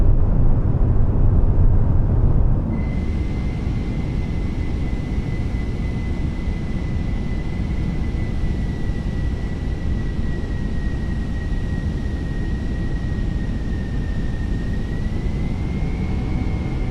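Airbus A320 on landing approach in a flight simulator, a steady jet engine roar with a constant high whine running underneath, loud and continuous from start to finish.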